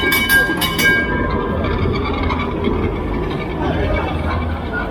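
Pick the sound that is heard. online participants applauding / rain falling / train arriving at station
train arriving at station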